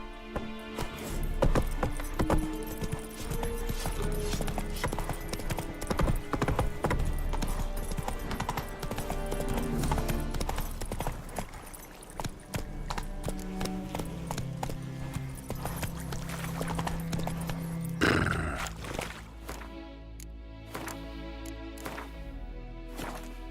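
Hooves of Geralt's horse in The Witcher 3: Wild Hunt clip-clop in a steady, rhythmic trot for most of the stretch, near and clear, before the gait changes toward the end.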